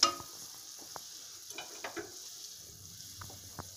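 A pan of hot chicken manchow soup being stirred, with faint, sparse clinks and scrapes of a spoon against the pan over a soft, steady background hiss.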